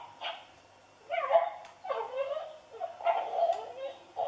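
A toy dog lets out several whimpering, yipping cries in short bursts, fairly close and with quiet pauses between them.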